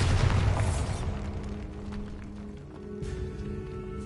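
A Bombarda blasting-spell explosion in the Hogwarts video game: a loud low boom up front that decays into a long rumbling tail with a fainter burst near the end.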